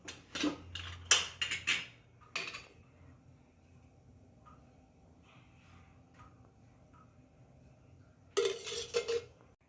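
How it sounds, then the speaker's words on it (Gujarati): Metal pots clank and clatter in a burst at the start as a pressure cooker is set on a gas stove, a lone knock follows, then near silence before another brief rattle of cookware at the end. "ફરીથી આપણે કુકર લઈ લઈશું અને તેને ગેસ પર મૂકી ગેસ ચાલુ કરી તેમાં તેલ નાખી દઈશું"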